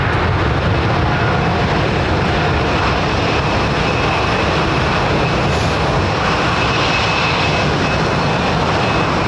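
An airliner takes off at London Heathrow Airport, a loud, continuous roar of jet engines that stays steady and broad throughout, with no voices.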